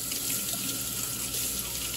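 Water runs steadily from a tap into a sink as Levoit LV600S humidifier parts are rinsed, a continuous close splashing hiss with no voices.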